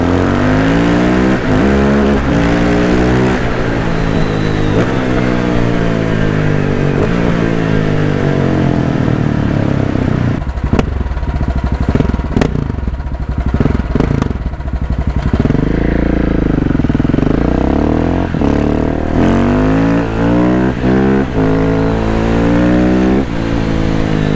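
A pink KTM 690 Enduro motorcycle rides through Belgrade streets. Its engine is loud and close throughout, revving up and down in repeated rising and falling sweeps with no pauses.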